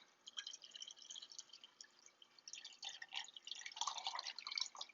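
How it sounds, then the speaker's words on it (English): Filtered water pours into a kombucha jar in a faint, trickling, dripping stream that swells and thins in bursts, quiet and close. "I'm just going to top it off with the rest of the water."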